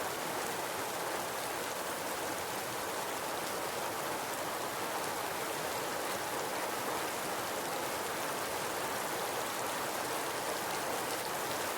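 A heavy rainy-season downpour roars in a continuous, dense wash of falling water, loud and even throughout with no pauses.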